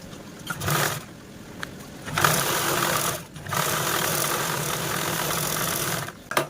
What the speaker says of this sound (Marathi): साईडने स्टिच केल्याच्या नंतर आपल्याला याच्यावरती अशा प्रकारे टॉप स्टिच पण देऊन घ्यायची